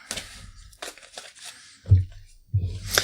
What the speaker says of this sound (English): shuffling these cards. These cards are very crisp, and they're easy to shuffle right now